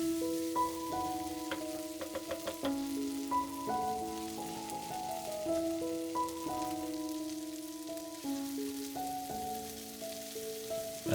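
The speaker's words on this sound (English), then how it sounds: "Stir everything well and fry for about 2 more minutes." Garlic and parsley frying in a pan give a soft, steady sizzle and hiss that runs throughout, faint beneath background music.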